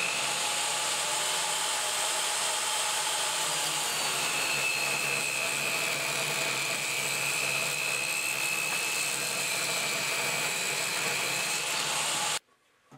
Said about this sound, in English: use the table saw to clean up the second edge